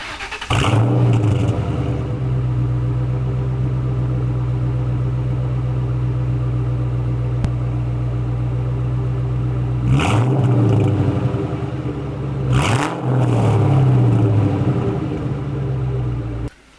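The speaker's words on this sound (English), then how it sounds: "let me play an exhaust clip for you guys" A 2002 Mustang GT fitted with an SLP Loudmouth exhaust and a catted X-pipe sits at a deep, rumbling idle, broken by a few sharp revs that bark out loudly near the end.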